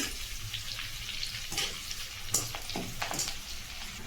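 Curry leaves crackling in hot oil in a pan for puffed-rice chivda, a continuous close sizzle with scattered sharper pops and spits, steady and fairly loud, no voices.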